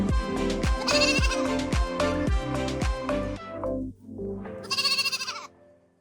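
Several loud, close goat bleats in a row on a goat farm in China, wavering cries overlapping one another, then a final high bleat after a short pause.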